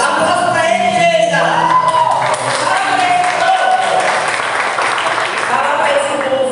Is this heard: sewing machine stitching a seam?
no